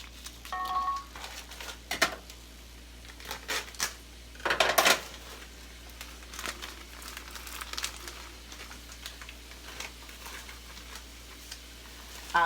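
Shrimp fried cauliflower rice made with Trader Joe's organic riced cauliflower is stirred in a pan, with scattered utensil scrapes, clinks and crinkly rustles in irregular bursts, one louder clatter midway, over a quiet background.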